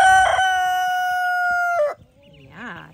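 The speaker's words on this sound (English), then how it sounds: "He is a very good rooster." A rooster crows once nearby, a long loud held call, followed by a short clucking from a hen.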